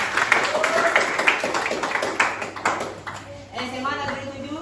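A group of students in a classroom claps hands together in a quick rhythm, mixed with voices chanting and talking, before the claps fade out near the end.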